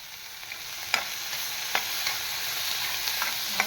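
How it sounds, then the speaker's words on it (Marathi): Tomatoes sizzle steadily with fried paneer cubes in a pan, a continuous close frying hiss broken by a few soft spatula scrapes and taps, with no voices. "आता टोमॅटो आणि सगळं छान असं परतून घेतलं"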